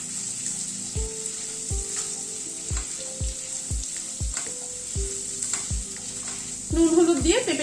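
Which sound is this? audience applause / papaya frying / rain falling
papaya frying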